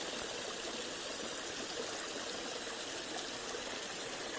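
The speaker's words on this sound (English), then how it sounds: "Here we have a weir." Steady broadband rush of water spilling over an old concrete weir in a woodland burn, a continuous near wash with no other sounds.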